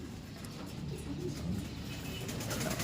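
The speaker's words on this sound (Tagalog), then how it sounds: "ayan yung mga ibon natin, ang mga bata" Soft, low pigeon cooing rolls along continuously under a steady outdoor hum, with no clear voices.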